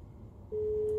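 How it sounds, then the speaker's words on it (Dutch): A single steady call tone from a Suzuki car infotainment system starts halfway through, sounding clear and sustained over faint background hum after a quiet moment. "En het systeem gaat automatisch bellen."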